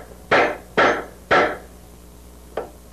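A ball peen hammer strikes a tube end to flare it: three loud, sharp metallic blows spaced about half a second apart, then a pause and a fainter fourth tap, close up and with no talking.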